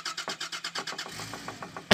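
A car engine struck with a wrench cranks in a fast, even series of loud chugging pulses, then settles into a lighter, quicker sputtering rhythm before a sudden loud burst at the end.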